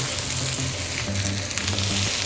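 A tomahawk steak sears in a hot pan at home, giving a steady, loud, close-up sizzle that crackles and pops throughout with no one talking.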